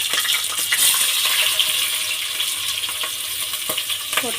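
Chopped onions sizzle steadily in a hot pan with green chillies for vegetable brinji rice, a close, continuous frying hiss with occasional soft clicks of stirring.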